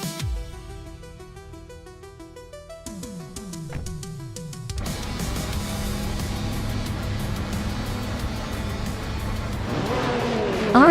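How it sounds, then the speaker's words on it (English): Race cars, including a 2010 Aston Martin Vantage GT4, launch off the line at Aviano GP in a racing video game. Musical tones fade into a steady, loud roar of many engines revving and droning together. "The race kicks off at Aviano GP, and Sikopal is on pole in a 2010 Aston Martin Vantage GT4"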